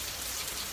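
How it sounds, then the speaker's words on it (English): Steady rain pours outside, a dense, even hiss of drops on surfaces with no pauses and no voices. "sitting here, listening to this rain"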